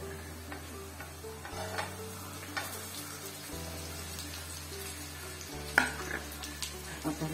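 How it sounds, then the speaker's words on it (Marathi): Alu vadi pieces fry with roasted onion in a pan, giving a steady soft sizzle with occasional stirring scrapes and a sharper clink near the end, all without voices. "कांदा भाजलेला आहे त्यामध्ये वडी घालून घेऊ"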